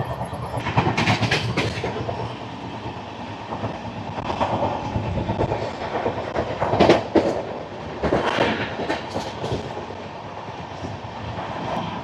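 A diverted special train from Chennai Egmore to Visakhapatnam rolls along, with a continuous rumbling roar and rhythmic clickety-clack of wheels over rail joints and no talking.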